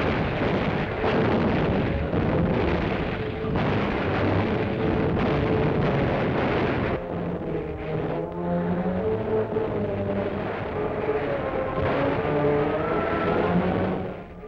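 U.S. Navy warship guns fire on the Marshall Islands in 1941 with a dense barrage of heavy booms and rumbling blasts. Music swells over the gunfire, and the firing eases partway through as the music carries on.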